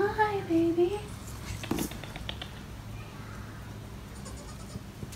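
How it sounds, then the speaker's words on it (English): A few high wavering bleats from baby goats near the start, then a quiet barnyard background with soft rustling and faint shuffling, at a cenote ranch in Puerto Morelos, Mexico. "No, baby goats."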